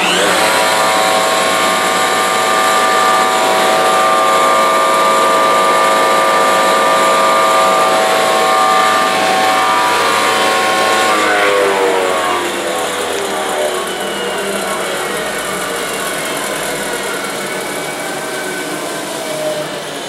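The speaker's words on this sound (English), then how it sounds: "Once again, this is a Suter 50 horsepower air agitation blower brought to you by Lanco. We'll now run it for you." A Sutorbilt 50 HP steel air agitation blower runs with a loud, steady mechanical roar and strong tonal whine. Partway through, the pitch slides downward and the level eases as it settles.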